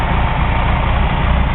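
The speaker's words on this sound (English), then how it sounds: "it really has a beautiful induction sound" Fiat Spider engine with an IDF carburetor idling close up, a loud, steady low rumble with a throaty induction tone and no voices.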